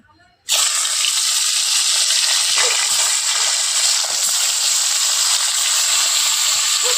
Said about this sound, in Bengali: ছোলের বড়ি তো একটু লাল করে ভেজে নেবো আমি মাছগুলো ভেজে নেব